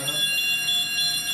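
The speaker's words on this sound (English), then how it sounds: "this time it will be a fire alarm activation and not a fault" A fire alarm activation during a RedCare monitoring test: a steady, shrill electronic alarm tone pulses continuously and evenly over a background hum, filling the whole stretch.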